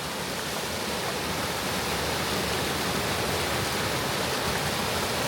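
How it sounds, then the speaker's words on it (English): A small waterfall near a little creek and bridge at Mount Rainier National Park rushes with a steady, dense roar of falling water, constant and fairly close, with no voices over it. "over here there's maybe a little waterfall action"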